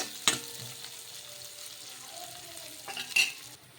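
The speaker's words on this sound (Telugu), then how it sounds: "ఇందులోకే పచ్చిమిర్చి ముక్కలు వేసుకొని ఒకసారి కలిపేసుకుందాం ఇవి కొంచెం మగ్గాలి" Onions and green chillies are stirred in a frying pan while cooking a poha breakfast. A soft, steady sizzle runs throughout, with a sharp utensil clink near the start and another near the end.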